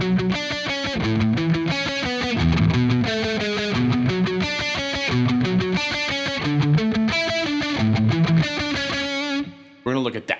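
A distorted electric guitar plays a fast, double-picked, palm-muted riff from the pre-chorus of a song, with choppy repeated chord stabs, loud and close throughout before stopping near the end.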